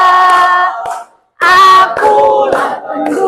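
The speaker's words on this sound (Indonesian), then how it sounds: "Sambil tepuk tangan ya" A standing audience sings the Indonesian patriotic song Garuda Pancasila together, loud crowd voices in unison with a brief pause, with hand claps along the beat faintly under the singing.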